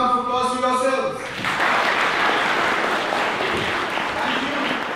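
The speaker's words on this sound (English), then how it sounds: "You can give a round of applause to yourselves." Audience at a children's day programme at St Joseph's College, Nainital, bursts into loud, sustained applause after a brief voice, the dense clapping filling the rest of the moment.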